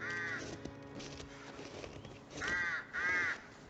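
A crow cawing in the survival video game The Long Dark, three harsh caws with the first near the start and the last two close together, heard over a low ambient game soundscape.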